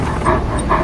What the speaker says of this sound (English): the dog relentlessly tries to attack him